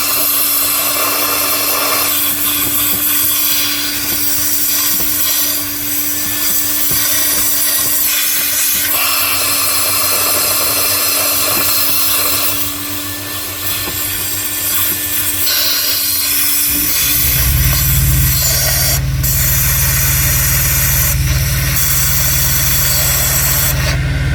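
Walnut shell and baking soda media is blasted through the intake of a Mazda CX-5 engine with 195,000 km as it runs, a steady loud hissing rush over the engine, with a deeper, heavier roar building in partway through.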